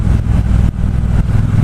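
A 2018 Triumph Bobber Black motorcycle engine drones loud and steady while being ridden on an open road, a deep continuous rumble with slight throttle dips and no talking.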